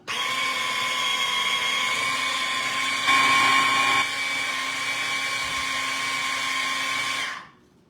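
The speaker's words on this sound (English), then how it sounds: "So all of our ingredients are in the food processor. We'll give it a go." A food processor blends heart-healthy recipe ingredients with a steady high motor whine, briefly rising in pitch and strain midway, then running on evenly before stopping abruptly near the end.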